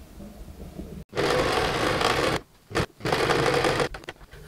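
A sewing machine stitches buttonholes through rough corduroy on a jacket, running in steady loud bursts with two short pauses between runs.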